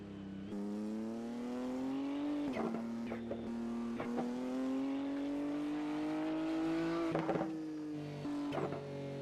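A BMW GT3 race car engine holds a steady high drone, its pitch easing and climbing as it shifts gears a few times, with sharp transient clicks, heard moderately far off.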